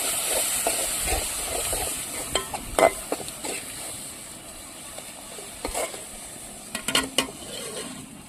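Dry fish curry with tomato and chili being stirred in a pot over a wood-fired stove: a steady hiss of simmering under scattered scraping stirs and clinks of the spoon, close and moderately loud.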